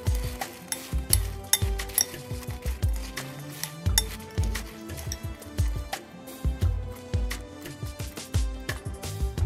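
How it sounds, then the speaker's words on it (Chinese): Fried dried tofu strips tossed with a spicy Sichuan sauce in a large bowl, a close, steady rhythm of utensil clinks and wet scraping knocks repeating several times a second. "搅拌均匀。"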